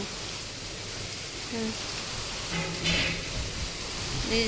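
Soft, steady patter of rain with faint gusty noise, a few quiet voices barely audible underneath.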